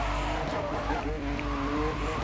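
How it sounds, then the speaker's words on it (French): A car in the video game Need For Speed Most Wanted drifts with a continuous tire-squealing skid over a revving engine, with someone talking over it. "Alors là, je vous fais un peu de dérapage."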